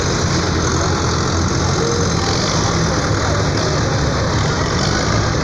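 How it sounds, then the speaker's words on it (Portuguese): Many tractor engines run together at a tractor festival, a dense, constant low rumble of idling and revving motors filling the scene loudly without pause, with no clear voices. "Quanto trator."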